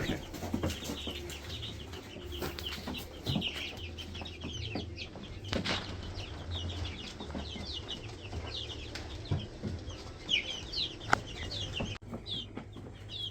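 Broiler chickens cluck and chirp steadily at moderate distance, with scattered higher peeps and a brief flutter of wings, no talking.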